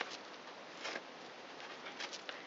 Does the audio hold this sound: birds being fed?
yes